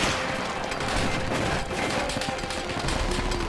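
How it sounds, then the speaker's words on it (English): Heavy battlefield gunfire in Call of Duty: World at War, with overlapping rifle and machine-gun shots forming a continuous loud fusillade, and occasional distant booms behind it. "That's a lot of fire coming from over there."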